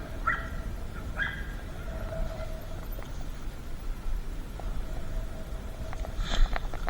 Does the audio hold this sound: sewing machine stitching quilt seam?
no